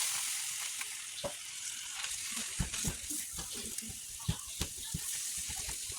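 Rice frying in a pan with soy sauce gives a steady, close sizzle with scattered sharp crackles and the scrape of stirring throughout.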